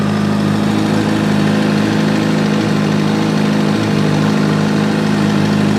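A Kawasaki Ninja motorcycle engine idles in first gear with the clutch held, a loud, steady, close rumble that stays even throughout without speech.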